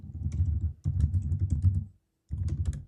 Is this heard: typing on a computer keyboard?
yes